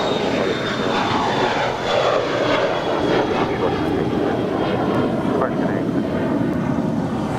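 A Lufthansa Boeing 747 taxis toward the north side of Los Angeles International Airport, its engines giving a sustained, fairly near whine and rumble beneath people talking.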